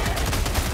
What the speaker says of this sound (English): Firing all I got.